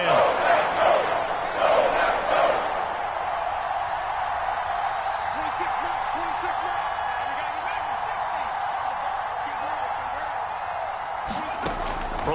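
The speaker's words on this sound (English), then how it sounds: "The crowd getting into it as we come up on a big third down." A stadium crowd roars in the Madden 22 football video game ahead of a big third down, a loud, sustained wash of cheering that rises early, then settles into a steady roar with brief shouts poking through.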